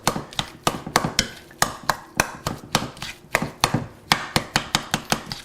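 A utensil mashes soft avocado for guacamole in a bowl, giving a steady series of about twenty sharp, close knocks in an even rhythm, with no talking.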